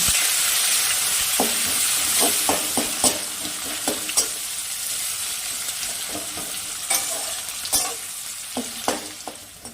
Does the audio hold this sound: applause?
no